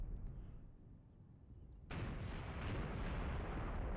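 Tank cannon fire and shell impacts in the Graviteam Tactics Mius Front wargame: a faint, distant rumble, then a sudden heavy blast followed by a sustained roaring wash of artillery noise, with no talk.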